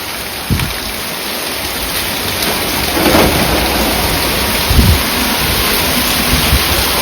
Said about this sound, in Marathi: उलट तिरप कस ही पाउस चालू है